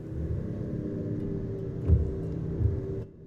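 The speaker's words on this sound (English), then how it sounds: "Oh, listen to that engine purr." A car engine in Final Fantasy XV hums at a steady low rumble while driving through a rainy tunnel, with two soft thumps midway before the sound cuts off near the end.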